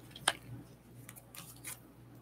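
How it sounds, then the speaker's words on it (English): Playing cards are shuffled with a crisp snap followed by a few soft riffling ticks and flutters, close and quiet with no talk. "I swear I am shuffling the cards."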